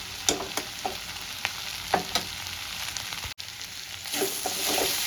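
Boiled potatoes stir-fried in a pan over a raised gas flame for a potato and capsicum vegetable dish, giving a steady close sizzle with repeated scraping stir strokes and a brief dropout near the middle.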